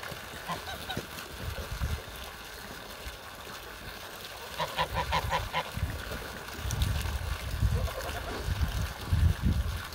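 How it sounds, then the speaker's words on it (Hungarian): Domestic geese bathing in water in a backyard setting, with scattered honks and splashing bursts, moderately close, over a low background murmur. "Kicsit még mutatom a libákokat, hogy fürdenek."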